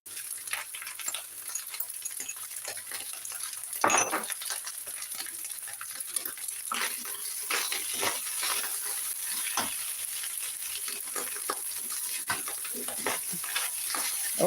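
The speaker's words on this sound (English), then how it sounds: "So we're just going to put that in to the end and then stir." Spring onions being stirred into food cooking in a hot pan, with a soft continuous sizzle and scattered scraping and clinking sounds of utensils, fairly close and moderate in volume.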